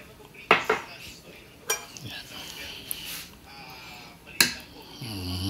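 A spoon scrapes and clinks against a bowl while ube halaya and fruit cocktail are mixed, with irregular sharp knocks near 0.5, 1.7 and 4.4 seconds and a faint rising voice at the very end.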